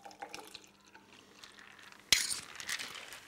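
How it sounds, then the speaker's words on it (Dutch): Cocktail poured from a shaker into a glass, a quiet clink at first, then a sudden loud splash of liquid and rattling ice that trails off as the pour continues. "Schenken we in een glas."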